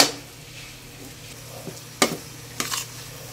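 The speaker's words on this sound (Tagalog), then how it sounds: "Haluin natin mga ka-vlog." A spoon stirs champorado, a chocolate rice porridge, in a pot: a couple of short scraping strokes stand out over a low steady kitchen hum, close and fairly quiet.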